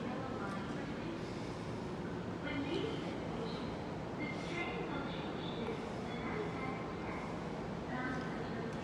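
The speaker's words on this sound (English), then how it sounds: "Try and get a little bit of footage when the train arrives as well. In fact, I think it could be coming now." A Narita Express train pulls into a station in Japan with a steady low rumble and rail noise that builds gently, heard at moderate distance amid station ambience and talk.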